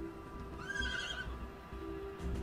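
Horse neighing in the video game Dawnlands, one drawn-out whinny rising and falling in the middle, heard alone over a steady game background hum.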